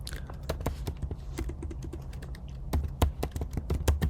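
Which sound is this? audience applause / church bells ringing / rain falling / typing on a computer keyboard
typing on a computer keyboard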